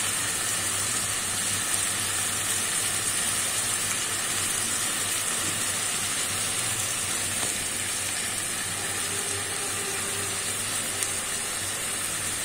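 Water lily stems frying with turmeric, chili, cumin and coriander powder in a pan give a steady, dense sizzle that holds evenly throughout, loud and close with no voices.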